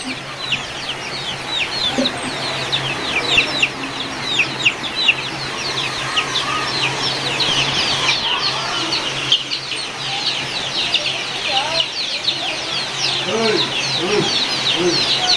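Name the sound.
clucking native chickens at a poultry farm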